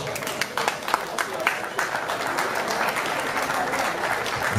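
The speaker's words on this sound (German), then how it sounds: "Applaus nochmal für die beiden Fighter," Sustained applause from a large crowd at a professional boxing event, steady and fairly loud throughout, with a ring announcer talking over it.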